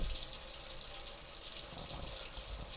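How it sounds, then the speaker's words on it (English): Hot water runs steadily from a kitchen tap into a sink, a constant close hiss and splash with no breaks and nobody talking. "I run hot water down the sink"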